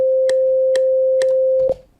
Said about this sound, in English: so here's the sine wave.